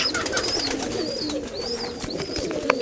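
Pigeons coo steadily at a domestic pigeon farm, soft rolling calls repeating from several birds nearby over a faint busy background, with no one speaking.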